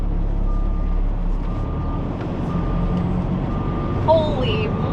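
Loaded semi truck with a fully laden trailer backing up in a low reverse gear, the engine lugging with a deep steady rumble, a repeating reversing beep over it and a brief squeal near the end, with a voice talking.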